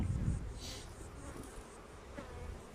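Honey bees buzz steadily around an opened beehive that has turned drone-laying with a false queen, a soft continuous droning hum with brief louder passes of bees near the listener.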